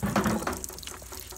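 Water from a large tank runs into a bucket, a steady close gush of pouring and filling that carries on without pause.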